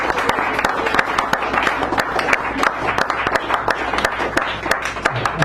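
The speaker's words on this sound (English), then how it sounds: "Give yourselves a round of applause for being here" Audience applause at a poetry reading in a San Francisco cafe, a steady wash of many hands clapping close by that fills the room without a break.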